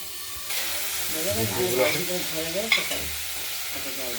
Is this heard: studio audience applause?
no